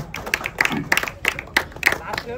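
Short bursts of audience clapping ring out at a cricket player auction, several sharp separate claps in quick irregular rhythm, mixed with nearby voices.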